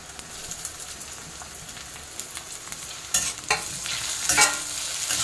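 Tomatoes drop into browned onions frying in a pan for dhaba-style egg keema, giving a steady sizzle with a louder burst of hiss and clatter around the halfway point and another near the end as the mix is stirred.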